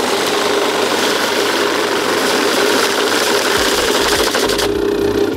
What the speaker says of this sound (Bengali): আমি আপনাকে দেখাচ্ছি, এটা খেলনা না টাকা গোনার মেশিন ভাইয়া